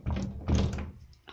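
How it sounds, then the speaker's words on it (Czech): A stuck door is pushed and shoved, giving two dull, heavy thuds close by, the second longer, then a brief knock at the end, with no talk. "Takže tam lidi mě nejdou otevřít dveře."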